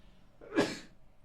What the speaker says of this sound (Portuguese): eu vou dar um espirro aqui, gente, só um pouquinho